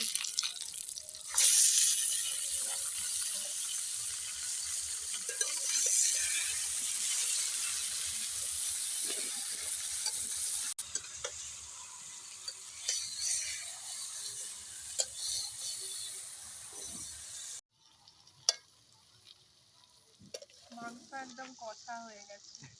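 Marinated mutton sizzles loudly in a pan over fried onions and spices, a dense steady hiss for most of the stretch before it drops away to quieter stirring and clinks near the end, with faint talk in the background.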